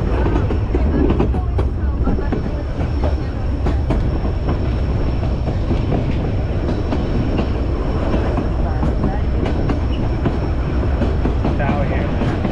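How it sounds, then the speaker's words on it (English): A train rolls steadily along the rails with a continuous loud rumble and rhythmic clacking, wheels and cars rattling close by throughout. "Riding trains."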